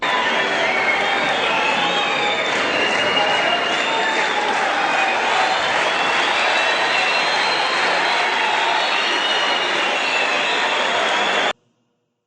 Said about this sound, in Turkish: belediye başkanı Cengiz Ergün seyircilerden büyük alkış aldı